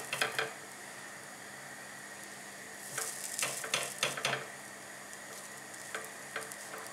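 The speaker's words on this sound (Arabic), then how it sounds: "نخليوهم يطيبوا شويه من التحت ونعاودوا نقلبوهم باش يتحمروا من جهه اخرى." Harcha flatbreads of barley semolina fry in a pan, giving a steady soft sizzle with brief louder crackles and stirring clatter partway through, close and without talk.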